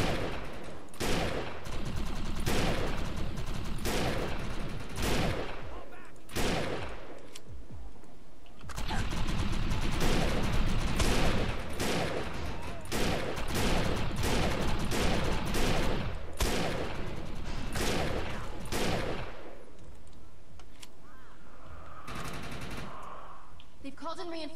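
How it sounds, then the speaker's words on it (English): Rapid bursts of automatic gunfire in a co-op video game crackle repeatedly over continuous battle noise, with a voice talking intermittently underneath. "Amidst the gunfire."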